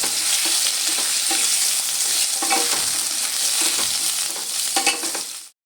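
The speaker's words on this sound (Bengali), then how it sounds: "এবার আমি কচু আলুটা খুব ভালো করে নেড়ে চেড়ে ভেজে নেবো" Taro and potato sizzle and crackle loudly in a hot pan while a spoon scrapes and stirs them in repeated strokes, then the sound cuts off.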